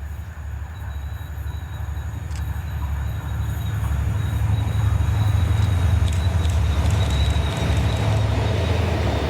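A Direct Rail Services train in Ayrshire, hauled by locomotives 57002 and 57003, rumbles past. Its heavy low roar swells over several seconds and stays loud, with rhythmic wheel clatter and a faint high whine.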